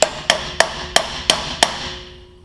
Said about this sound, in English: We're going to give this a little tap.